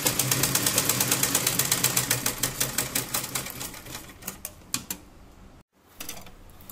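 A sewing machine stitches a child's night dress, its needle running in a fast, steady mechanical rhythm for about five seconds before slowing to a few separate stitches, a brief pause, then a short restart; no voices.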